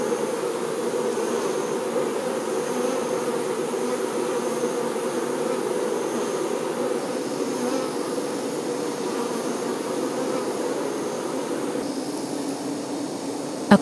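Honey bees drone inside the hive in a dense, continuous buzz that stays steady and close for the whole stretch, with no voices.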